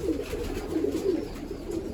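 A tumbler pigeon coos in short, soft, throaty rolls, close and alone, repeating over a couple of seconds.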